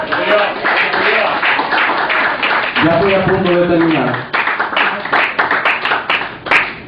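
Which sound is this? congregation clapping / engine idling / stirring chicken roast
congregation clapping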